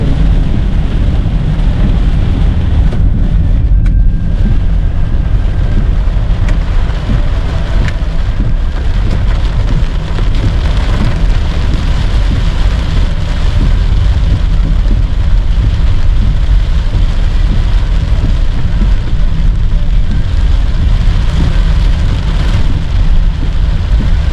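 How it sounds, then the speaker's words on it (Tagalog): Heavy rain pours down outdoors in a steady, loud, dense hiss with a low rumbling undertone and some wind buffeting, continuous throughout with no voices. "Kaso nga lang, napakalakas naman ng ulan."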